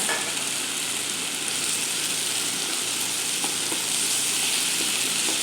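Vegetables fry in a pan with a dense, continuous sizzle while being stirred, close up and steady throughout, with no talking.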